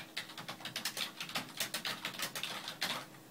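Rapid, irregular clacking of keys on the serial terminal keyboard attached to an Altair 8800 computer, a steady run of crisp close taps with short pauses between bursts.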